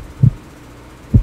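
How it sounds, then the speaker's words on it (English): Heartbeat in the video game Luna Game 3D, two deep muffled thumps spaced about a second apart, close and loud against near silence. "And a heartbeat."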